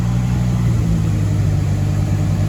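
A Dodge Viper V10 being revived in a project-car restoration, idling loud and close with a steady low rumbling drone and slight roughness throughout.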